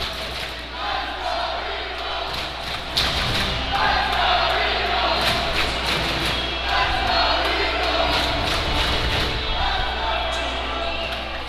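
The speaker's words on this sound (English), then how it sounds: "Crowd is into it right now." Crowd noise from spectators at an ERAU vs FAU game in a tie with seconds left, a steady loud roar with sharp thumps and bangs throughout, and voices audible in the mix.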